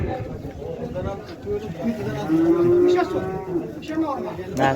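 A cow moos loudly nearby at a livestock market, a long low call rising in the middle, with people talking in the background throughout.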